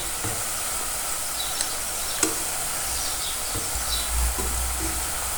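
Papdi fry in hot oil in a pan, a steady, close sizzle with soft crackling and a few light knocks as the pieces are flipped.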